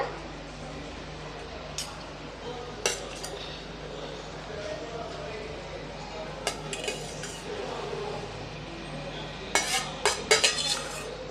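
A spoon scrapes and clinks against a metal pot as thick dried-fish curry is stirred with masala, with sharp taps scattered through a steady kitchen hum.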